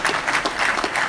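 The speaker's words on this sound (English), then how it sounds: "A round of applause." A crowd at a military retirement ceremony claps in a short, dense burst of applause, loud and continuous.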